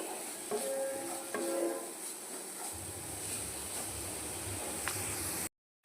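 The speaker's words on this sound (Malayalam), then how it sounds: "ഗൈസ് ശരിക്കും മിക്സ് ചെയ്ത് കൊടുക്കുക." A spoon stirs grated carrot halwa in a pan over the flame, a continuous soft scraping with a low hiss and a few light clinks, close up and without talk.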